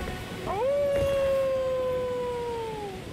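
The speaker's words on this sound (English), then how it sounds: "If you pay attention, you might notice the sound of a wolf howling." A single wolf howl from the video game Elden Ring, rising in pitch and then holding a long, steady wavering tone for about two and a half seconds before tapering off, heard alone against quiet ambience.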